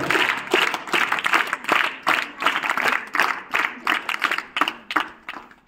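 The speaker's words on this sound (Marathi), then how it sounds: "सरांचं पुनश्च एकदा आपण आनंददायी टाळ्या वाजवून सादर करूया" Audience at a school lecture and guidance programme claps together after a speaker's remarks, a dense burst of applause with clear individual claps, steady throughout and then thinning toward the end.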